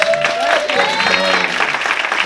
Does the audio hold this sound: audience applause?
yes